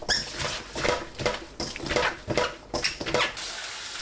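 Bellflower root (doraji) rinsed by hand in a bowl of water, with close, loud sloshing and splashing in repeated bursts, plus light clinks against the container.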